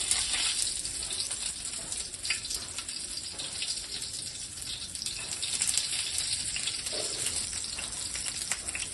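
Stuffed bitter gourd sizzles in hot oil in a pan with a moderate, continuous crackling hiss that swells and fades slightly. Occasional soft clatters of a utensil sound nearby, and no voices are heard.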